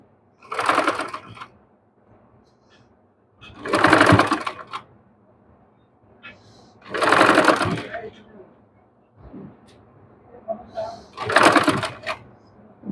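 A sewing machine stitches lace onto a dress neckline in four short, rapid runs, with quieter gaps between the bursts of stitching.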